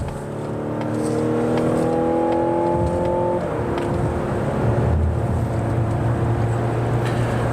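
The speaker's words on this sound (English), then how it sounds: "We're going to accelerate on the interstate very generously, just like everybody does." A 2024 Mazda CX-90 plug-in hybrid SUV accelerates generously onto an interstate, heard from inside the cabin. Its engine whine rises steadily, drops at a shift, then settles into a steady cruising hum over road noise.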